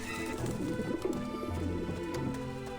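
Pigeons in the Grim Fandango video game coo steadily and fairly loudly, layered over continuous game background music.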